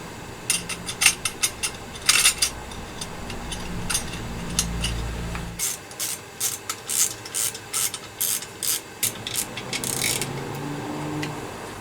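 Bolts are threaded and tightened on a Triumph motorcycle: bursts of quick, ratcheting clicks repeat in short runs, with a low mechanical rumble at first and then a steadier series of close, crisp clicking strokes.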